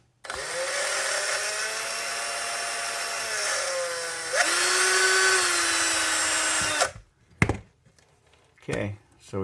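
An old, worn-out power drill runs in one long, loud continuous whine for about seven seconds, with its pitch dipping and shifting partway through, then cuts off into a few clunks and brief handling noises.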